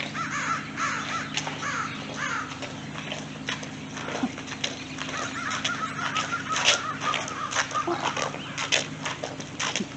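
Crows call outdoors in short scattered caws over a busy background of other noise, close and repeated at irregular moments.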